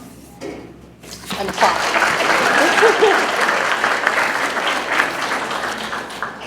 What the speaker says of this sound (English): that should be recognized and applauded